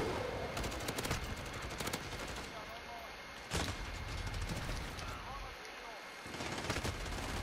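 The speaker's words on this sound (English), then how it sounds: "I spawned into three bullet trails of fully automatic weapons." Rapid bursts of fully automatic weapon fire in a video game, several guns chattering together in dense, overlapping rattles with a few sharper single cracks, fairly loud and continuous throughout.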